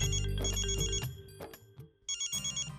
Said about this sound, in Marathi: अरे बापरे, मॅडमचा फोन.